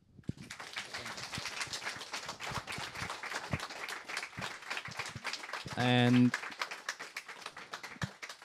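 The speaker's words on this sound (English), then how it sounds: "Please give Damian a warm round of applause." An audience at a Startup Grind Vienna talk claps with scattered, moderate hand claps under voices and chatter, and a short tonal beep sounds partway through.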